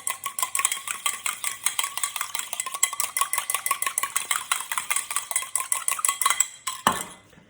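Milk glaze is whisked in a bowl for hot cross buns, a quick, even rhythm of clinking strokes repeating close up for several seconds before stopping abruptly.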